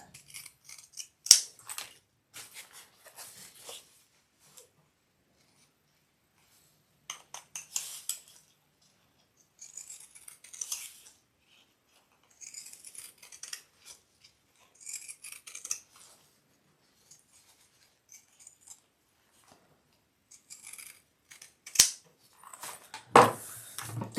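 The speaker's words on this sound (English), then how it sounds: "I am going to trim this little seam down again." Scissors trimming down a fabric seam on a sewn mini backpack, crisp snipping in short bursts separated by quiet pauses, close and fairly faint, with no talk.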